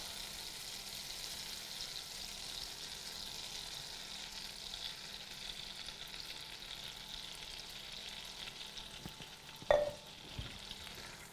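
Olive oil sizzling in a hot pan on an induction cooktop while making garlic bread, a steady soft frying hiss throughout with a couple of small clinks near the end, no talking.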